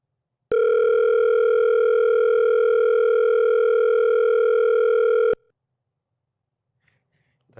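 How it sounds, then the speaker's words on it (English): A synthesized sine-wave tone, like a phone ringing, sounds as one steady, loud, unbroken beep for about five seconds, then cuts off abruptly to silence. "It sounded just like my phone ringing."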